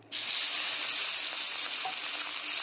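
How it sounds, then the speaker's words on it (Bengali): Onion and green chillies dropped into hot oil with cumin, bursting into a loud, steady close-up sizzle that holds evenly throughout. "এবার পেঁয়াজ আর কাঁচা লঙ্কাটাকে কিছুক্ষণ ভেজে নেব।"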